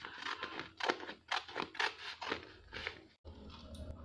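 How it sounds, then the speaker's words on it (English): Scissors snip through wrapping paper for a plastic bottle flower craft, a close run of quick, rhythmic crisp cuts with a brief pause near the end and no talking. "After that, cut the wrapping paper."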